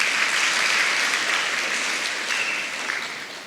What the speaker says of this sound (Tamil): கைத்தட்ட 4 பேருக்கு நன்றி